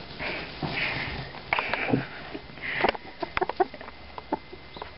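Pet chicken clucking close by: short, irregular clucks and soft clicks in a scattered series, growing busier toward the end, with no talk.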